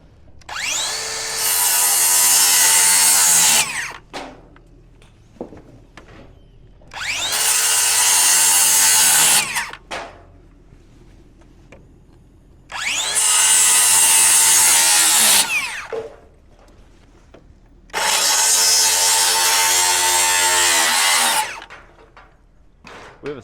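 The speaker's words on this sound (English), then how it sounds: "We have a Sawzall on this lift." A Sawzall reciprocating saw cutting through wooden rafter tails in four loud, sustained bursts of rapid buzzing, each a few seconds long and separated by short pauses, up close on a house framing site.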